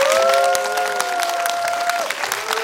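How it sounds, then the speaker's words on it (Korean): A cinema audience at a Bucheon International Film Festival guest talk applauds warmly, dense steady clapping throughout, with a faint held tone over the crowd. "네 분께 큰 박수 부탁드리겠습니다"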